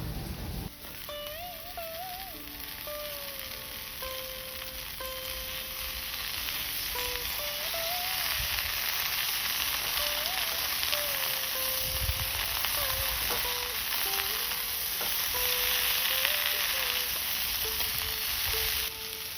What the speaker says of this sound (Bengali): আলু খুব ভালো করে ভাজা হয়ে গেল এবার কেটে রাখা লাউ শাকটা দিয়ে দেবো